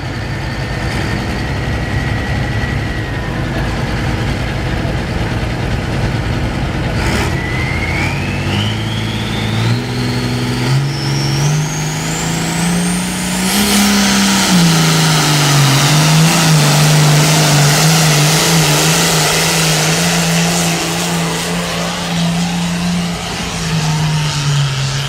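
Allis-Chalmers tractor revving hard under load at an outdoor tractor pull, its engine note climbing steadily in pitch and then holding a loud, sustained roar throughout, close and continuous with no talk.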